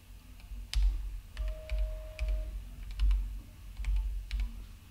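Quiet, irregular clicks and taps of keys being pressed one at a time on a Bastard Keyboard, spaced out with soft low thuds beneath each keystroke.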